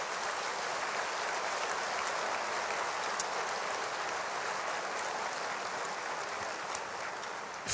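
A church auditorium audience claps steadily as a dense, even wash of applause that holds at one level for several seconds, slightly distant, with no voices over it.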